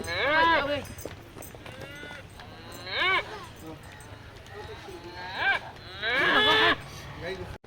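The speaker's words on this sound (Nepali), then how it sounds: "ओहो गाई आयो" A cow moos several times outdoors, drawn-out calls rising and falling, interleaved with people talking nearby.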